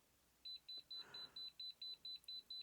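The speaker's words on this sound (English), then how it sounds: "if I turn the beeping back on" A Neoteck NTK231 electromagnetic field meter gives a steady series of short, high-pitched electronic beeps, about ten evenly spaced, clear and close with a faint background hiss.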